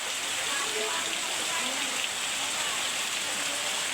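Heavy rain pours steadily in a dense, unbroken hiss, loud and close, with no other sounds standing out.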